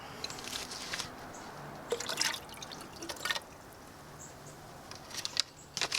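A half jar of pepperoncini peppers with their juice poured into a pot for pot roast sandwiches, giving soft dripping and splashing liquid sounds in several short bursts, fairly close and moderately quiet.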